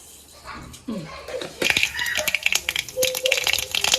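Crackling and popping from mustard seeds hitting hot oil, sharp sputtering bursts that start after a brief rustle and continue rapidly near the microphone.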